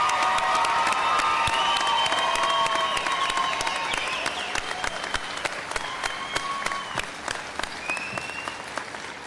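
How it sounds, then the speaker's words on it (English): Graduation audience at a commencement convocation breaks into sustained applause with scattered cheers and whoops, a dense roar of clapping that gradually thins out toward the end. "Let's give them another round of applause."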